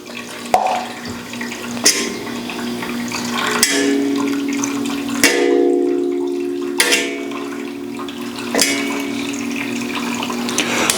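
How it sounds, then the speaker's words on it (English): Fresh water splashes and runs over a hot metal griddle, with sharp periodic bursts and a steady sizzling hiss in between, close by and without speech. "Hit up some fresh water."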